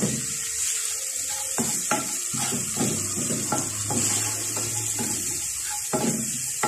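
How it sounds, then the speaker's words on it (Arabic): Garlic, onion and whole spices sizzle as they sauté in a pan, a steady close frying hiss broken by several sharp scrapes and knocks of stirring. "كنديرهم مع بعضياتهم وكنبقى نشحر فيهم بحال هكا"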